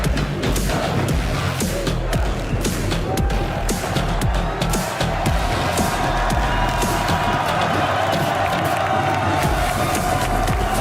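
A crowd at a Valorant esports match cheers and shouts loudly and continuously, with bursts of clapping and rhythmic chanting in a large venue.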